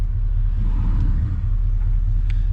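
A Chevy or GMC vehicle idles with a steady, close, low engine rumble as it is shifted into reverse gear; the engagement itself is not distinct.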